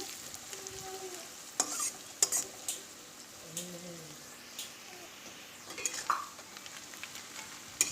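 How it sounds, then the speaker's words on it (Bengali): Onions and green chilies sizzle in a pan while being stirred with salt for chow mein, with scraping and clinking of a spatula against the pan in irregular bursts over a steady frying hiss. "লবণ দিয়ে আবারও কিছুক্ষণ নেড়ে চেড়ে নিচ্ছি"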